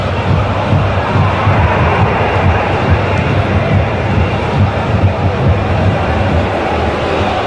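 Dense, loud crowd roar from a football stadium at St Andrews during a Birmingham City versus Southampton Championship match, a steady wall of jeering and noise that holds for the whole stretch without a break.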